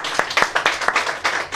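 An audience at a book launch claps in brisk, uneven applause. The claps are loud and close, with several hands slapping at once in a quick, scattered rhythm.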